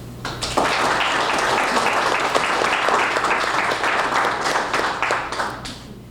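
Audience at a Rotary club installation event applauds outgoing club officers: a dense, loud burst of clapping that starts abruptly, holds steady for several seconds, then tapers off.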